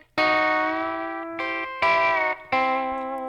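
A Telecaster electric guitar on its bridge pickup plays pedal-steel-style bends, four bright, twangy notes in a row, each sustained and sliding in pitch, loud and close with no talking.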